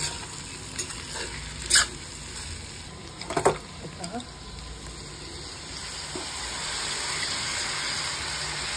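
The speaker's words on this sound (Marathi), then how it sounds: "थोडासा पाण्याचा हपका देऊन हे बटाटे आपण शिजवून घेऊ" Potatoes fry in a pan after a splash of water, giving a continuous close sizzle and hiss with a few scraping stirs and light clinks, and the steam noise swells toward the end.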